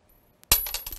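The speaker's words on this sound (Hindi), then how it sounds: "अब यह आखिरी बार हम 500 बार इन सिक्कों को उछाल रहे हैं" Two coins are tossed and land on a hard surface in a classroom probability exercise, making one sharp clink followed by several quick rattling bounces close by, with no talk.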